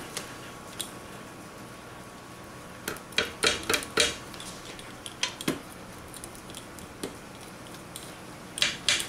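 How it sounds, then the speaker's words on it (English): Homemade pizza being sliced with a kitchen cutter on a pan, a series of sharp scraping and clinking cuts in irregular bursts, close and fairly quiet, with no talk. "I usually cut mine in about 8 slices or so."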